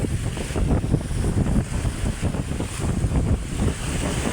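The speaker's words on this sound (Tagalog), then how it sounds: "talagang lumalakas ang hangin dito mga katambay o." Strong wind roars continuously across the microphone at the seashore, with large waves washing beneath it and no voices.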